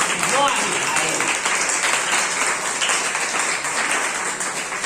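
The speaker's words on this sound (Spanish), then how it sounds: "Entonces denle un aplauso que él se lo merece." A church congregation breaks into sustained applause during a sermon, a dense wash of clapping that stays loud and even throughout, with a voice briefly audible at the start.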